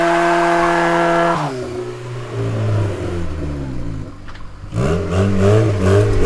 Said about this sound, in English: we're making so much boost that was clutch slip actually